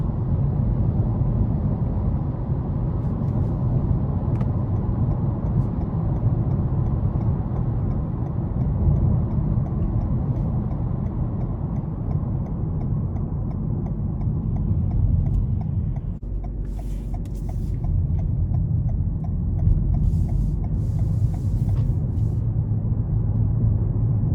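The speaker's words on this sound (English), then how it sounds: "But this powertrain is just so quiet." A 2021 Toyota Avalon Hybrid XSE cruises with a quiet powertrain, heard as a steady low cabin rumble of road and engine noise with a slight shift partway through and faint clicking near the end, with no talking.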